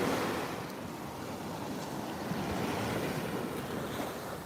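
Ocean waves break steadily on Fort Lauderdale beach at sunrise, a continuous, fairly close wash of surf with a touch of wind noise and no talk.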